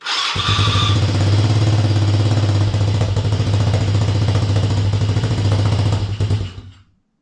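A small gas engine on a ride-on toy car runs steadily and loudly with a buzzy, chugging drone, then cuts out near the end.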